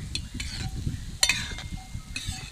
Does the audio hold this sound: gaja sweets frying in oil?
yes